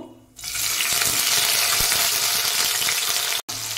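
Halved small tomatoes dropped into a hot frying pan for a vegetarian broccoli dish, setting off a loud, steady sizzle and crackle that starts abruptly after a brief quiet and keeps going, broken once by a short gap near the end.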